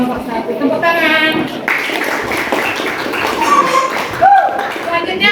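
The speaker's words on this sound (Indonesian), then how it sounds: "Oke, terima kasih kelompok 1. Tepuk tangan." Students in a classroom clap for a group presentation, a moderate burst of applause mixed with chatter and a teacher's voice.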